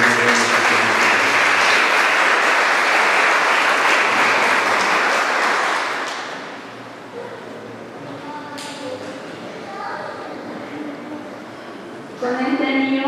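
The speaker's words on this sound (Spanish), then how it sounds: "Dame su ofrenda de palmas a Dios." Wedding congregation at a Christian church ceremony applauding in a sustained, dense burst of clapping that fades after several seconds, leaving room tone with some talk before a brief renewed clap near the end.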